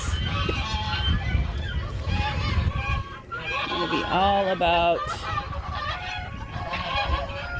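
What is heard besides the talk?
ducks honking loudly as an alarm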